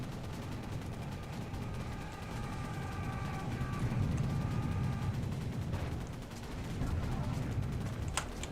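A nail gun fires rapidly and continuously in the Serious Sam video game, a dense rattling barrage of shots under game explosions and noise.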